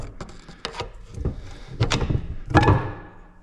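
Pry bars clank and knock against a GM 9.25 IFS front differential housing as the clamshell halves are pried apart, a series of close metallic thunks and scrapes with a louder clunk near the end.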